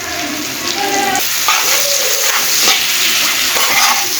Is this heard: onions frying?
yes